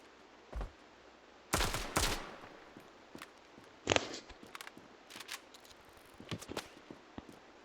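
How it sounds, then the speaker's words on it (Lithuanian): Gunfire in a multiplayer shooter game, Standoff, with scattered single shots and short bursts at varying distances, mostly faint and one or two louder reports, in a quiet room. "Nematėte, iš kur šaudo?"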